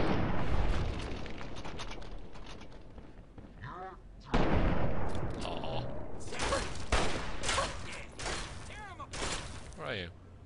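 Gunfire and explosions crack through a fight in the video game Fallout 3, several sharp bursts with a heavier boom midway, while a person talks over the action.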